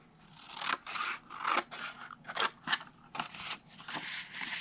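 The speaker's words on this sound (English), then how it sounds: "cut it up to the first score line, and then cut this piece off." Scissors snip through paper up to a score line in a run of short, crisp cuts, about a dozen quick crunching strokes in uneven rhythm, close and fairly quiet, with no talking.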